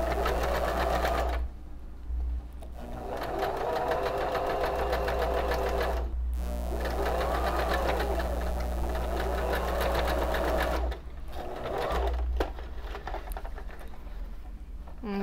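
A sewing machine runs a steady zigzag stitch at maximum width along the edge of a bias-cut slip skirt, its motor whirring continuously and close with two brief pauses in the run.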